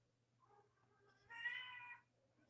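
A cat gives a clear, drawn-out meow at close range in a quiet room, preceded by a couple of softer little mews, with a steady low hum underneath.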